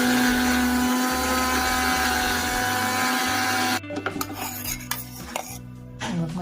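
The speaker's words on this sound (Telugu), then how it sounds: "కలబంద ముక్కలు మిక్సీలో వేసి" A kitchen mixer grinder whirs steadily as it blends aloe vera pieces into a pulp, a loud continuous motor drone that then cuts off, followed by scraping and rattling of the jar.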